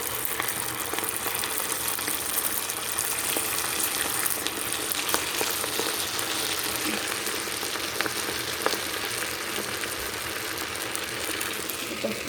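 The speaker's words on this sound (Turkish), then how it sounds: "şimdi köftelerimizi kızartıyorum" Steady, dense sizzling and crackling of Turkish stuffed meatballs (içli köfte) frying in hot oil, continuous and close, with no talking.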